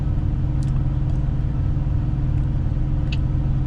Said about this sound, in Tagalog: Punuan yung truck stop dito sa lugar na ito kasi napakaraming truck.